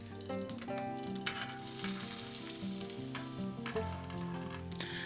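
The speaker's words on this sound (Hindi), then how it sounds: "in a large kadai, I added a little oil, some whole red chilies and ginger garlic" Whole red chilies, ginger and garlic fry in oil in a large kadai, giving a steady crackling sizzle that runs through the whole stretch beneath prominent background music.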